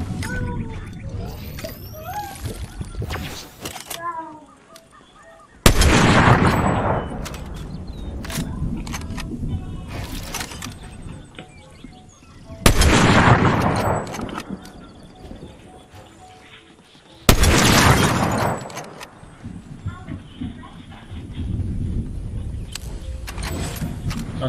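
Fortnite gunfire cracks out in three sharp, loud single shots spaced several seconds apart, over a continuous bed of game ambience.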